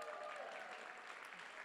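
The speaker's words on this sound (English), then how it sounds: "give them a nice round of applause when they come up here on the stage this afternoon" An audience claps steadily for panelists coming up on stage, a brief dense patter of applause at moderate distance that stays even throughout.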